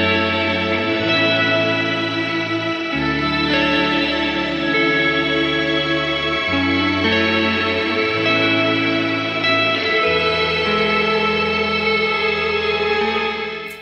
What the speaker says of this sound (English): If you're looking for a compact, one-stop reverb solution, then the Immerse Mark II is it.